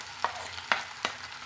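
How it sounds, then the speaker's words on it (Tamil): Marinated brinjal stirred into onions frying in a pan, with three sharp scraping stirs over a steady high sizzle, close and alone. "இந்த ஊற வச்சுக்கிற கத்திரிக்காய் வந்து இது கூட சேர்த்துக்கலாங்க"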